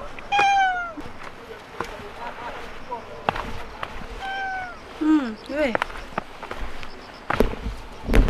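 A cat on an island hilltop campsite meows repeatedly in rising, drawn-out calls, fairly close, with rustling movement and faint footsteps between the cries.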